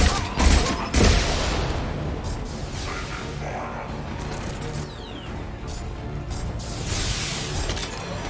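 Rifle fire in the video game Mass Effect 2 rattles out in dense, loud bursts, with heavy booms early on and a steady din of shots and mechanical clatter throughout.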